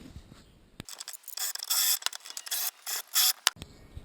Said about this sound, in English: Alright, so I've deburred the plate